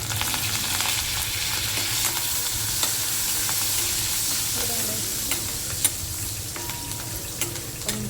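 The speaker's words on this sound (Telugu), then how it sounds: "వేగనిద్దాము పోపు." Crushed garlic and curry leaves crackle in hot oil for a tempering, a steady, close, dense sizzle that holds for the whole stretch with a few sharper pops and spatula clicks, no voices.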